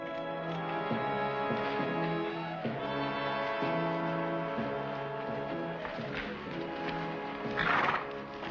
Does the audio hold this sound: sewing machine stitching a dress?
no